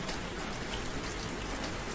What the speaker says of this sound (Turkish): Gökyüzünden süzülen yağmur damlaları onun hüzünlü bakışlarına karışıyordu.